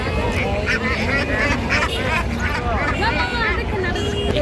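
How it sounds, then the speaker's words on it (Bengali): Ducks quack and honk in a busy open-air bird market in Tongi, a steady chorus of close, overlapping calls mixed with crowd chatter and people talking nearby. "চলেন হাঁস দেখে আসি।"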